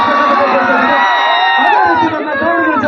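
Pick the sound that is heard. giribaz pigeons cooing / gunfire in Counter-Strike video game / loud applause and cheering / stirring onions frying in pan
loud applause and cheering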